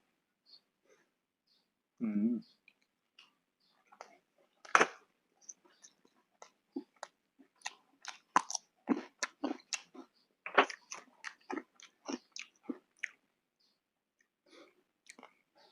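Someone chews raw beef larb (koi) close up, making a scattered series of soft wet crunching and smacking bites, with brief speech at one point.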